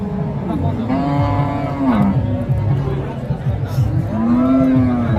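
Cattle low repeatedly at a busy livestock market, including a crossbred cow, with several drawn-out moos close by over constant crowd chatter and background voices.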